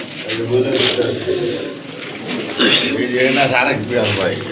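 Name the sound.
pigeons cooing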